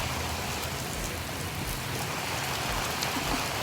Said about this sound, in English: Ah, the rain is coming!